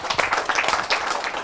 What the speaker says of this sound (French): nous applaudissons le Burundi